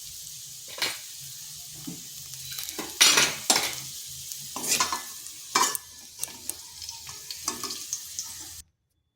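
Taro pieces frying in oil in a pan, a soft continuous sizzle broken by repeated scraping and clinking of a spatula as the pieces are stirred, close and moderately loud.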